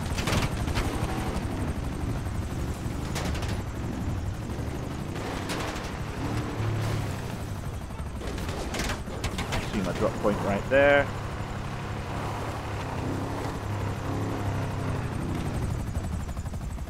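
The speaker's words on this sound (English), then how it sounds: "There's one of the helicopters." In GTA Online, a helicopter's rotor chop hums steadily in the background while someone talks over it, along with game effects and a brief bright chime.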